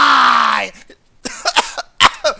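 A sustained vocal tone cuts off, and after a short pause a burst of several quick, sharp coughs follows in an irregular cluster, close and loud, in a GTA V Online play session.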